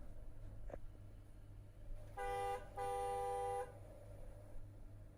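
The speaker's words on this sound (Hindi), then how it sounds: "डुअल इलेक्ट्रिक हॉर्न्स हैं" Jeep dual electric car horns honk twice, a short blast then a longer one, bright and close, over a quiet low hum from the idling vehicle.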